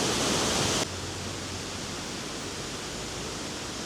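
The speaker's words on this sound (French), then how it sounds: "même moi je m'entends pas avec le bruit de la Sorgue" Rushing water of the Sorgue river at L'Isle-sur-la-Sorgue in Provence, a steady broadband roar with no talk over it, louder for the first moment and then settling into a constant close wash of noise.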